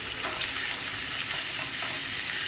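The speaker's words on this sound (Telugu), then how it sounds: "వెల్లుల్లి అల్లం పేస్ట్ వేసాం. ఇవి కొంచెం వేగనిద్దాం." Garlic ginger paste sizzling in hot oil in a pan for gongura pickle, a dense, continuous, fairly loud frying hiss with faint stirring underneath and no voices.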